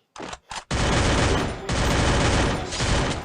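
Gunfire rings out in a Garena Free Fire Clash Squad ranked match: two short shots, then a long, loud, sustained automatic burst that briefly pauses and resumes, dense and close, with no speech.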